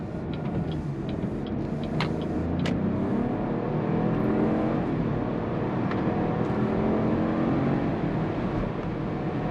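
Chevrolet Trailblazer ACTIV AWD accelerating in sport mode, a loud continuous engine drone with a slight whine and rising buzz heard from inside the cabin, with a few sharp ticks along the way.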